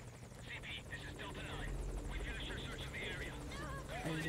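A helicopter in the video game Metal Gear Solid V: Ground Zeroes drones with a steady rotor hum beneath busy game effects, faint in the mix, while a voice talks over it.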